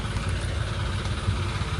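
A tractor engine idling on a ghat hill road, a low steady rumbling drone with slight uneven pulsing, close and continuous throughout.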